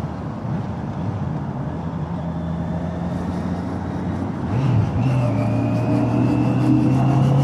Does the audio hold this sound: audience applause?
no